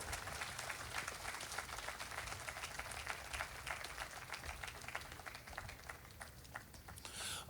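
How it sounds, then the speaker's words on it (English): An audience at a tribute event for Chief E K Clark applauds with sustained, dense clapping, fairly distant and steady before tapering slightly toward the end. "one more time, a big round of applause"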